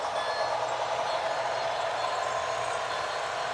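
An HO scale model train running at full throttle gives a steady, close whirring rumble of motor and wheels on track, unbroken throughout.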